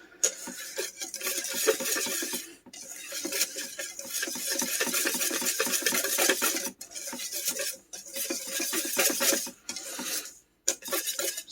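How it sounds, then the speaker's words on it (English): Spoon stirring homemade taco seasoning in a bowl, breaking up clumps, giving busy continuous scraping and light clinking of utensil against dish with brief pauses, close and fairly loud, no talking. "you can just use a spoon or your finger to break up the clumps and just mix it."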